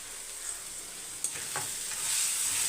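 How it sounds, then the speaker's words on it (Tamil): Steady, soft sizzling of food frying in a pan, with a faint clink of stirring partway through. "இப்போ இது வதங்கட்டும்"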